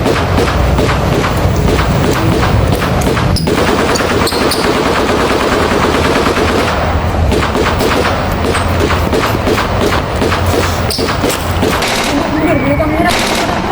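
Dense, continuous gunfire with rapid machine-gun bursts and heavy booms, loud and relentless throughout like a full battle, with bullets striking fort walls.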